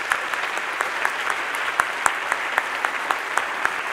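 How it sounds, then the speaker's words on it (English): Audience at a leadership award event giving a round of applause, steady moderate clapping from a room of people with a few sharper individual claps standing out. "Give yourselves a round of applause."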